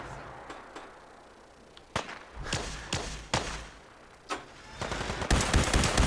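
Gunfire in Fallout 4's Nuka World: scattered sharp shots and thuds at irregular intervals, some louder and closer, ending in a dense rapid burst like automatic fire.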